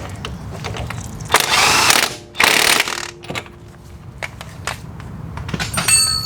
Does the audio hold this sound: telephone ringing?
no